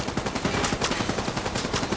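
Rapid automatic gunfire from Tom Clancy's The Division 2, loud and close, a dense burst of rhythmic shots firing continuously without pause.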